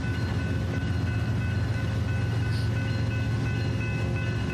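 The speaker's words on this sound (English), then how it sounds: "Got a BNSF coming in." A BNSF freight train arriving, a continuous low engine rumble and rolling drone with faint steady tones above, even and sustained throughout, no talk.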